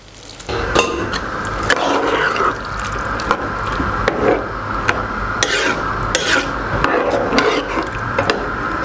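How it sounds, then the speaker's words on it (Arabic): Water pours from a tap into a pot of frying rice in a home kitchen, a steady running stream with small clinks and splashes, close and moderately loud. "هسه نضيف المي."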